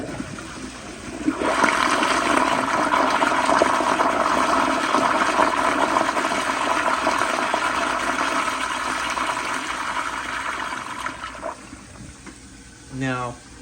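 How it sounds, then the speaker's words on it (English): A 1994 Kohler Wellworth Lite toilet flushes with its handle held down, giving a loud, steady rush of water lasting around ten seconds before tapering off into a brief gurgle and refill. "So here is a flush with the handle being held down."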